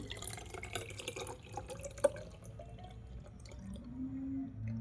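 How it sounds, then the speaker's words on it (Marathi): Alkaline water at pH 9.5 from a Kangen machine is poured into a bottle, giving a steady watery trickle with a few drips and a rising filling tone near the end, fairly quiet and with no talking. "या बॉटलमध्ये मी टाकते केंगन नाव असलेल्या बॉटलमध्ये साडेनऊ पी एचचं पाणी"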